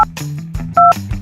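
A single short telephone keypad beep sounds loud and clean near the middle, set among low murmuring background sounds.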